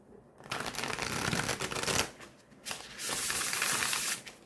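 Stiff new tarot cards riffled and shuffled in two quick bursts with a short pause between, close and crisp, no talking.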